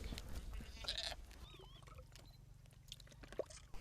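A goat offered by a family for a celebration meal bleats in short wavering calls amid outdoor ambience and low rumble, fairly close but not loud.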